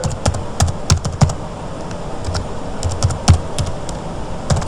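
Keystrokes on a computer keyboard as a password is entered during an online account sign-up, heard as quick irregular bursts of clicks with short pauses, close and fairly loud with no talking.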